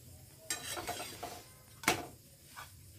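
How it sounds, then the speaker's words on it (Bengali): Paratha frying on a pan in a home kitchen during a power cut, with a soft sizzle, light scraping and a couple of sharp utensil clinks close by. "এখন সন্ধেবেলা আজকে টিফিনে এখানে পরোটা ভাজা হচ্ছে"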